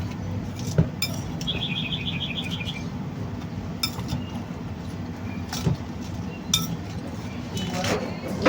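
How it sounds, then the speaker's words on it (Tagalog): Metal utensils clink and tap intermittently in a bowl while a vegetable salad is mixed with sauce, with quiet background noise and a faint bird chirp at one point. "Ihalo nyo lang ng maigi guys. Imikos-mikos nyo lang para mag-mix yung sauce at saka yung mga vegetables."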